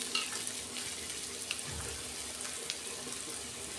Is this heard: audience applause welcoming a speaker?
no